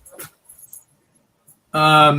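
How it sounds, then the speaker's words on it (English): A dog lets out a brief high whine after a quiet stretch with faint shuffling, a short, close, tonal cry near the end. "Sorry, my dog."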